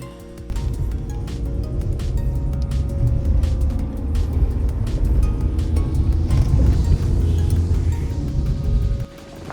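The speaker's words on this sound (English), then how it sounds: "So I just need to go to the car and drive over there." A car is driven off to a nearby spot to retrieve a drone, giving a steady low engine and road rumble heard from inside for several seconds before it cuts off, with faint ticking above it.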